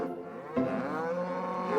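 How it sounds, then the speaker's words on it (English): Cattle on a Scottish island farm moo in a long, loud, close bellow that begins partway through and holds steady, with no talk over it. "The Meeson family have raised cattle on this island since the 17th century"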